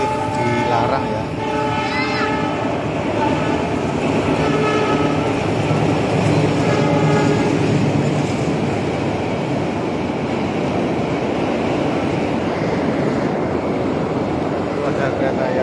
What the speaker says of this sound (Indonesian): Ada kereta yang lewat.